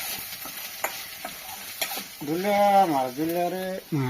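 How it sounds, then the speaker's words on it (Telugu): Lunch-box food stir-fried in a hot pan gives a steady close sizzle with sharp scraping clicks from stirring, and a voice speaks over it during the second half. "ఫ్రై చేసి చేస్తే మంచిగా ఉంటుందని ఫ్రై చేస్తుంది"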